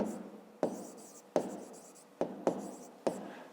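A pen writes a fifth-grade math solution by hand on paper, with six crisp taps and short scratching strokes in an uneven rhythm, close and alone.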